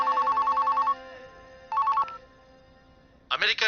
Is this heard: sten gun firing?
no